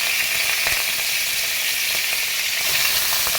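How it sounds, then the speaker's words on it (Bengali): Chicken fries in a pan with a loud, steady sizzle and a few scraping stir noises, close and continuous with no talk. "এইবারে চিকেনটাকে ভেজে নিচ্ছি।"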